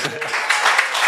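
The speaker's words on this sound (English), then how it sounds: "Oh, they need a round of applause." Brief burst of applause from a church audience, dense and close, lasting only about a second.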